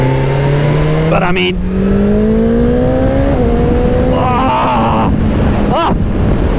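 2023 BMW S1000XR motorcycle engine while riding, a loud rising whine climbing steadily through the revs with a quick gear change, heavy wind rush over the microphone and a rider talking.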